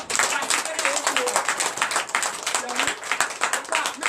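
Congregation applauding during a Sunday church service in Comè, Benin, a dense steady patter of many hands filling the space, with voices mixed in underneath.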